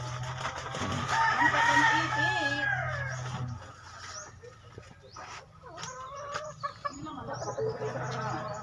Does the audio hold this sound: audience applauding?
no